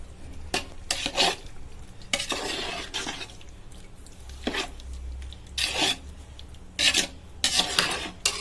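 Beef biryani with soaked basmati rice is stirred in a pot over low heat, producing repeated scraping and rasping strokes in irregular bursts with a faint sizzle beneath.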